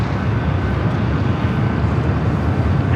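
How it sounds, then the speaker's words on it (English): Delta Boeing 757 jet at LAX on its takeoff roll, a loud continuous broadband engine roar, steady and distant-sounding, with no talking. "757 up next for takeoff"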